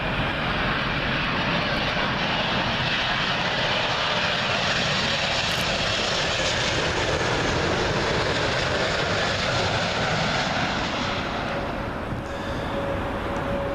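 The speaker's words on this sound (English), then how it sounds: "British Airways 777, arriving from Atlanta" British Airways Boeing 777 arriving from Atlanta on final approach to Heathrow runway 27L at Myrtle Avenue: a loud, close, continuous jet roar fills the whole stretch, easing slightly near the end as the airliner passes.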